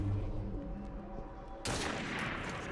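A sudden loud gunshot blast breaks a quiet, humming scene in Assassin's Creed Syndicate. A dense, broad roar follows the crack and carries on to the end.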